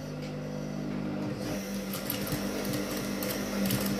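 A sewing machine top-stitches the pocket of a school uniform, giving a continuous close mechanical whir with a steady hum throughout.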